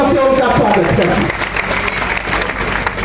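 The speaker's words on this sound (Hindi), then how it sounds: "मैं आप लोगों से कहूंगी कि उन सभी बच्चों की प्रस्तुतियों के लिए एक बार जोरदार तालियों से उनका स्वागत करें।" An audience at a speech event claps for the children's performances, loud dense applause at first that thins out as a voice starts speaking over it.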